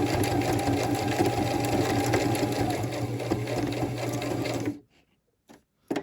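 A sewing machine runs a zigzag stitch in a fast, steady mechanical whir, then stops abruptly, leaving near silence broken by two brief clicks or taps.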